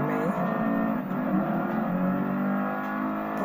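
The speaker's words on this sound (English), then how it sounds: "the LaFerrari overtook the Bugatti Veyron" Engine roar from a LaFerrari overtaking a Bugatti Veyron in the Gran Turismo Sport racing game, a steady loud revving drone with no pauses and no voices.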